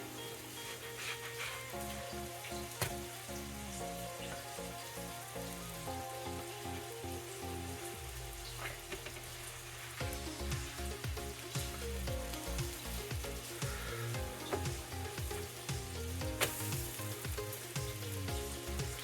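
Whole wheat pecan pancakes cooking on a griddle give off a continuous soft sizzle with fine crackling. The sizzle grows somewhat louder about halfway through and carries on steadily with no talking.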